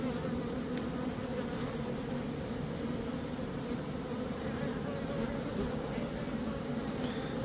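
Honey bees buzz on open hive frames of foundationless comb, a dense, steady drone that holds close and fairly loud throughout, with no speech.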